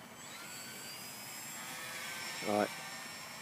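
An Art Tech Cessna RC model airplane flies overhead with a faint, thin electric motor whine that drifts slightly in pitch. A person speaks briefly near the end.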